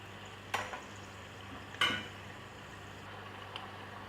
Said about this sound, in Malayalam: ഇത് ഒരു ഗോൾഡൻ ബ്രൗൺ ആവണ വരെ നമുക്കിതൊന്ന് പൊരിച്ചെടുക്കാം.